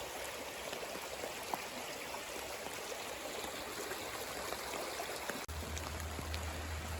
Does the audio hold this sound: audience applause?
no